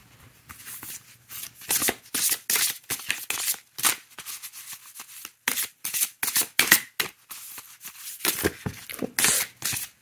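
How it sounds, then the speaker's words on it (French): Oracle cards (Oracle of the Roses deck) being shuffled by hand for a three-card draw, a string of quick papery riffling bursts with brief pauses between them, close and fairly loud with no talking. "On va faire un petit tirage en 3 cartes."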